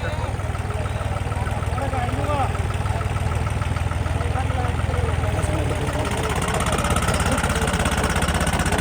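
A tractor engine chugs steadily at idle, close and loud, with a constant low rumbling throb for the whole stretch.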